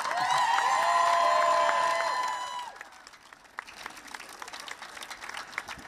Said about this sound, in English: A national round of applause for the tireless efforts of all the health workers and carers